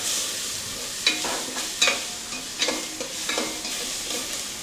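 Onion, tomato and a bay leaf fry in a pan for prawn biryani, with a constant close sizzle and a few sharp stirring scrapes spaced about a second apart.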